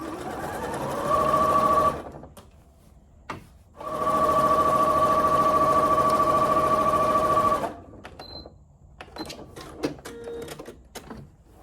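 A sewing machine runs edge stitching on a blouse facing, humming steadily in two bursts, a short one and a longer one of about four seconds, then stopping with light handling clicks afterward.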